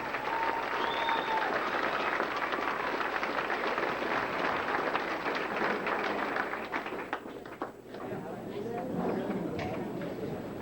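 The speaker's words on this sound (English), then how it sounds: "Give these guys a big round of applause." Loud, sustained clapping from a crowd at an awards ceremony that fades somewhat toward the end, with a voice briefly audible over it.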